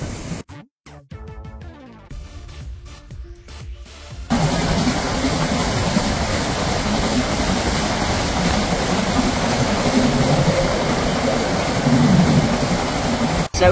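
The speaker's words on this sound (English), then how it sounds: "Hopefully you can hear me over the steam train" A steam train on the Harz Mountain Railway in Germany rumbles along with a steady, loud, broadband roar heard from on board, preceded by a few seconds of quieter mechanical clatter and tones.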